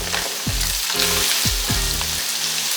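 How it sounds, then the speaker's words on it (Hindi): Chicken keema frying in a karahi, a dense continuous sizzle with several rhythmic scraping strokes of a spoon pushing the mince around, close and loud. "तकरीबन 5 मिनट हो गए मुझे कीमा भूनते हुए"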